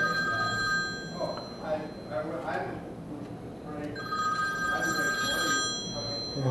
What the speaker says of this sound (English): I'm doing a video about being interrupted by a cell phone, ironically enough.